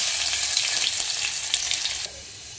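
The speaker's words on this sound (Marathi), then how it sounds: "फक्त लसणाची फोडणी द्यायची." Garlic sizzling hard in hot oil for a tempering, a bright, close crackling hiss that suddenly drops lower near the end.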